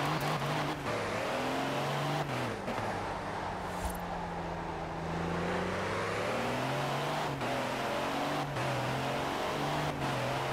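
The engine of a fast truck in Forza Horizon 4 drones steadily and loudly through curves, its pitch sliding up and down with throttle changes and a few sharp clicks on top, with no voices.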